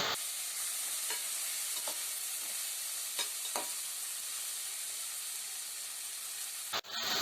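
Tomatoes for boti gojju sauté in a hot pan with a loud, dense, close-up hiss of frying, broken by a few brief scraping strokes of a spatula and a sudden cut near the end, with no voices.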